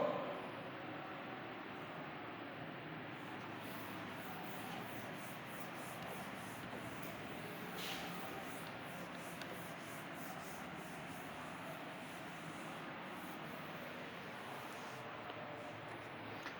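A board being rubbed clean with a duster during a class 12 mathematics lecture, a steady broadband scrubbing hiss that continues evenly and fairly faintly without pauses.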